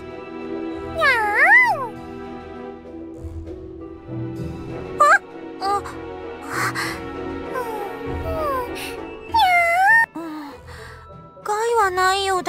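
Cartoonish cat meows from the Super Neptunia RPG video game come in several short rising-and-falling calls, spread across the stretch over steady game music, with a voice that may be imitating a cat.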